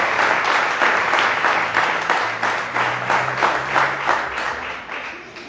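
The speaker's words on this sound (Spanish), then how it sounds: "Fuerte el aplauso para nuestro Dios," A church congregation claps during a Sunday communion service, loud, fairly rhythmic applause in roughly even beats with a faint hum of voices beneath, fading slightly toward the end.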